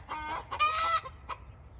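Chickens cluck close by in several loud bursts, with one longer squawking call in the middle and a short cluck near the end, over a low rumble and no talking.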